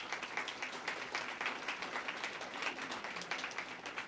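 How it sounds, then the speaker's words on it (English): An audience applauds at a police department awards ceremony in Pasadena, giving a steady, dense patter of many hands clapping that holds at an even level for the full four seconds, with no talk over it. "So I'd like a round of applause for"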